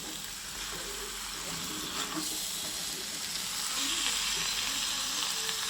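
Chicken sizzles and fries steadily in a hot pan as water is poured in, a continuous close hiss of frying and steam with no talking.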